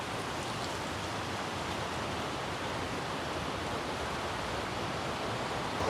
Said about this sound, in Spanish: Un río muy caudaloso.